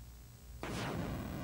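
An explosion in a Star Wars video game bursts in suddenly after a quiet, humming lead-in, then a bright roaring wash of noise that stays loud to the end.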